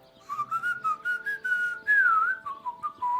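A person whistles a short wavering melody imitating Henry's whistle from Kingdom Come: Deliverance 2, clear and close, with quick rising and falling notes and brief breaths between phrases.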